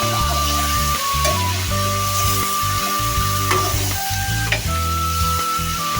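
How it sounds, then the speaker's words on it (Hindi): Meat for matar gosht fries loudly in a pan, a dense steady sizzle close up with occasional clinks and scrapes of stirring, no talking. "इसको हम अच्छी तरह फ्राई करेंगे"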